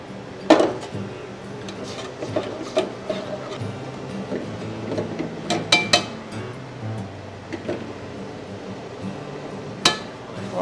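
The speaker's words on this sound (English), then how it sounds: "I'm gonna add the greens and I'm gonna add the noodles." Greens and noodles added to a pot of boiling liquid: scattered clinks and taps of utensils against the pot over a steady low bubbling, close, with no talking.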